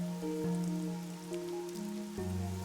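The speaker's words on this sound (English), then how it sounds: "The rain, it never stops." Rain patters steadily in Master Detective Archives: Rain Code, a soft continuous wash beneath sustained game music tones, with no talking.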